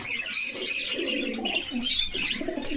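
Fancy pigeons in a cage coo and chirp continuously at close range, layered calls from several birds with no speech.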